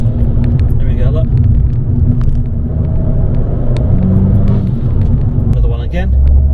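An Abarth 595 fitted with a pop-off induction filter idles and rumbles nearby, a steady deep engine drone with brief intake whooshes and revs, with voices talking over it.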